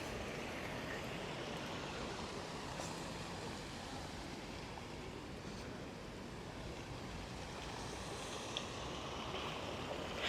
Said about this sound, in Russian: Фонтаны, конечно, особенно в летний зной, здесь очень-очень кстати.